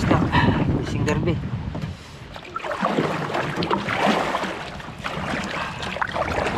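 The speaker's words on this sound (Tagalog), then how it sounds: "Medyo mahangin konti." Gusty wind buffets the microphone in rumbling bursts, rising and falling across the clip, with light water sounds from a kayak on a lake.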